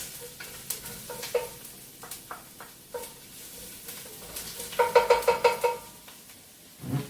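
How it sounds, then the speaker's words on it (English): Garlic sautéing in a pan, with a soft sizzle under a series of close spoon taps and scrapes against the pan, clustering into quick knocks toward the end, no voices. "I am going to add garlic and just saute the garlic for just about a minute"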